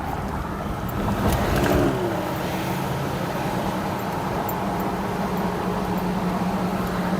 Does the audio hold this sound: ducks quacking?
no